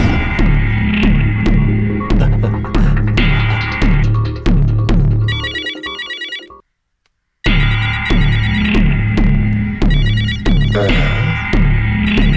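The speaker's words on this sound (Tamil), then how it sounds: "ரவி, நானே உனக்கு ஃபோன் பண்ண நினைச்சேன். நல்ல வேளை நீயே பண்ணிட்ட" A telephone ringing in a Tamil TV serial scene. A loud, repeating electronic ringtone melody pulses steadily, cuts to silence for about a second, then starts again, with no speech.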